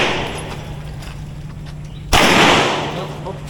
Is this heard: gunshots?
yes